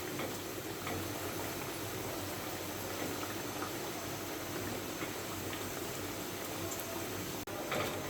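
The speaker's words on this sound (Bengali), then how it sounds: "তেলগুলো আমি ছিটিয়ে ছিটিয়ে গায়ে উঠিয়ে দিচ্ছি যাতে ভালো করে ফুলে ওঠে।" Nimki dough pieces deep-frying in hot oil, with a steady, dense bubbling hiss that continues evenly throughout, close and moderately loud, with no talking.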